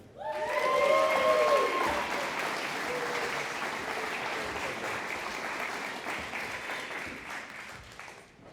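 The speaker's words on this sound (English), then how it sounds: "One more time, a round of applause for these students." A crowd applauds graduating fire academy students, bursting into loud clapping with brief whoops at the start, then settling into steady, sustained applause that fades slightly toward the end.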